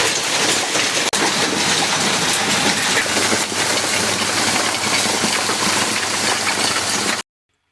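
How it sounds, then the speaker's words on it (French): Heavy hail and rain hammering a car during a severe storm under a tornado warning, a dense, steady roar of impacts that runs nearly unbroken for about seven seconds before cutting off abruptly. "Ils annoncent un terrible orage de grêle."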